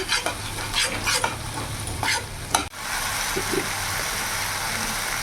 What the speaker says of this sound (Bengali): টক দই দেওয়ার সাথে সাথে এইভাবে নাড়তে হবে যাতে দইটা কেটে না যায়